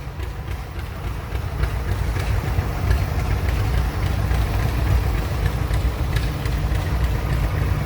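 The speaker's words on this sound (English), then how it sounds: "It's a John Deere Model 730, owned by Lester Carmen out of Hillsboro." John Deere Model 730 antique tractor in a parade, a steady low engine chug running loud and continuous throughout, close by.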